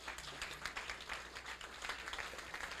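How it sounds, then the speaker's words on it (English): Audience at a South Florida sales leadership event applauds, a dense, steady crackle of many hands clapping at moderate distance for a few seconds without pause. "Yes, that deserves a clap."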